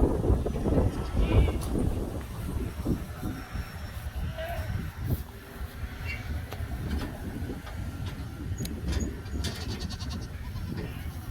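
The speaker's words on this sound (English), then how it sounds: "let's get these goats turned out and see what the other goats think about it" Goats being unloaded and turned out on a farm bleat repeatedly among shuffling, clattering noise, with people talking nearby and a fairly loud, busy background throughout.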